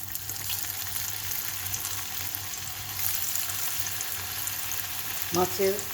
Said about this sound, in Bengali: রাতে ভাত খাওয়ার আগে একটু কাবাবটা ভেজে নিই